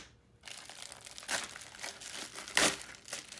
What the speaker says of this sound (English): let's use some scissors to cut this open.